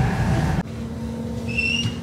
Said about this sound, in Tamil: ட்ரெயின் இப்ப கிளம்பிட்டது